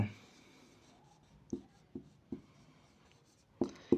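Hand writing with a pen on paper while working a math solution, faint and close, with a few short scratchy strokes spaced unevenly over a quiet background.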